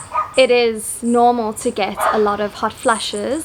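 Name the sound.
dog barking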